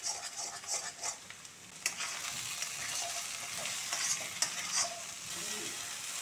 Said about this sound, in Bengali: কড়াইতে পরিমাণ মতো একটু তেল দিয়ে ডিম ফাটানো ডিমটা দিয়ে ভালো করে নেড়ে চেড়ে নিতে হবে